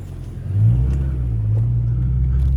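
A BMW off-road race car's engine rumbles steadily as the car drives over rough terrain, with the revving rising early and then holding at a loud, close, constant drone.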